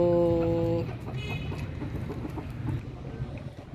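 An Aseel hen gives a drawn-out call, then settles into low, repeated clucking, close by and moderately loud.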